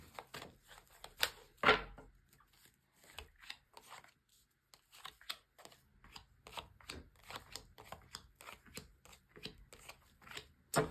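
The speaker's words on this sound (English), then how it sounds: "So a good shuffle." Crisp riffling and flicking of tarot cards being shuffled, repeated in quick bursts with short pauses, close and fairly quiet, with an occasional louder snap.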